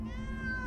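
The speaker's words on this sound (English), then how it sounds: "Well, there's where the meowing's coming from." A cat meows in the Minecraft Story Mode video game, one sustained, tonal meow lasting under a second with no talking over it.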